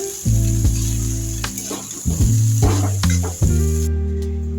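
Egg noodles, Bengal-style chow mein, tossed and mixed in a hot pan, a steady sizzle with repeated scraping strokes and a constant low hum from the stove or fan throughout.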